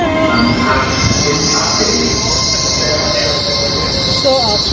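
A train pulls into a station with a steady loud rumble and high metallic wheel squeal running throughout, close by, with faint voices underneath.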